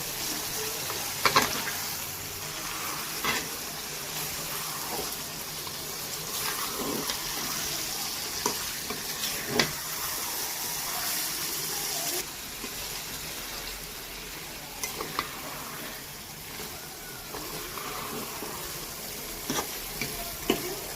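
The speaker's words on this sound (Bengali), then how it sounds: "এখন আমি এর মধ্যে মাংসগুলো দিয়ে দিব" Pigeon meat frying in spiced masala for a pigeon curry, a moderate sizzle running throughout with scattered spoon knocks and stirring scrapes, a few louder clacks standing out.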